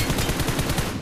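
Rapid automatic gunfire from the battle royale game BGMI, a dense burst of evenly spaced shots lasting about a second, loud and close with no talk over it.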